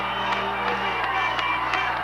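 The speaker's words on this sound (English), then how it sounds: "Brings the crowd to its feet." A basketball crowd at a 1982 OFSAA final cheers and roars after a two-handed dunk, a dense, sustained wash of voices with scattered whoops, heard from within the arena.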